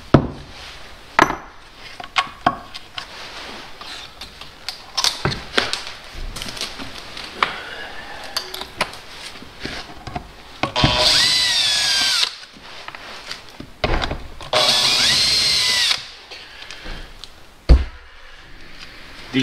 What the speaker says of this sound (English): So let's remove these bolts and then have a look